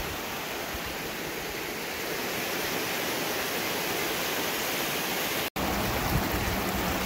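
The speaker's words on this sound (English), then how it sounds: "Look at this beautiful little waterfall." A small waterfall cascades down a rocky canyon in Death Valley, a dense, steady rush of splashing water heard up close and continuously, broken only by one very short gap.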